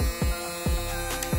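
A BaBylissPRO barber hair clipper, a powerful model rated at 11,000 strokes per minute, hums steadily close up with a bright electric buzz, broken by a few short thumps, and no one speaks.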